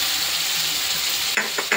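Garlic and ginger sizzling steadily in a hot pan, with a continuous close frying hiss and a few brief stirring scrapes near the end.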